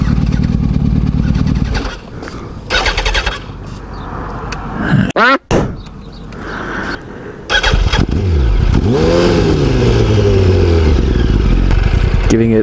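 Motorcycle with a Power Commander fuel tuner being started and revved by throttle, the engine catching, revving in sharp bursts, dropping out, then rising and falling in pitch close by, with people talking between revs.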